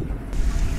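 Ocean waves wash around a sailboat at sea in the Pacific, a loud, steady rush of water mixed with gusty wind buffeting the microphone.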